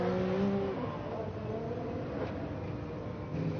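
A Lancia Delta S4 Group B rally car on the Goodwood rally stage, its engine droning and shifting in pitch as it runs down a descent, mixed with crowd and ambient noise, with a commentator speaking over it.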